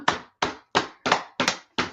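Six sharp hand claps ring out at a steady, even pace in a classroom. Each clap is distinct and moderately close, with brief silence between them and no talking.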